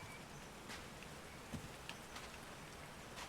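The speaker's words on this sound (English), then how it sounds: "These drops of rain are so refreshing." Rain falling in the video game Call of the Sea, a soft, steady patter of drops hissing evenly on surfaces, faint and continuous with occasional slightly louder drips.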